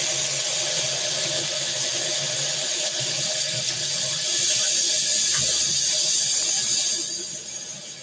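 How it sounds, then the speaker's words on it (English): Water runs steadily from a sink faucet during handwashing, a loud continuous close hiss that eases off near the end. "wash my hands and wipe it up"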